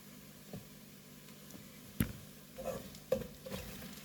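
Shrimp tossed into a pan of browned garlic gives a low, steady sizzle of frying, with a few sharp utensil clinks and scrapes standing out in the middle and near the end.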